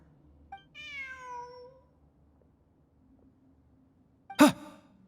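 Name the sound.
cat meowing in video game Genshin Impact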